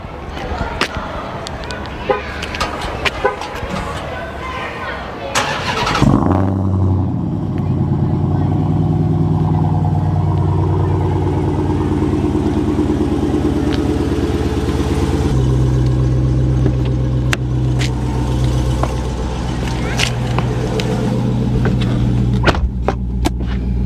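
A 2020 Dodge Challenger Hellcat Redeye fires up warm with a loud, sharp crank and bark, then settles into a deep, steady, rumbling idle that stays strong and close throughout.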